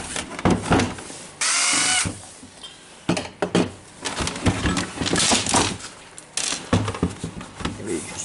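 A power drill backing screws out of a Makita DC18RD twin battery charger, with repeated whirring bursts of varying length, close and loud, broken by clicks and rattles of parts being handled.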